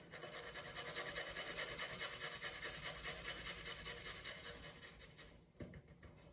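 Garlic cloves are grated on the fine side of a small grater for tzatziki, producing quiet, close, rapid rhythmic rasping strokes that stop abruptly with a brief knock near the end.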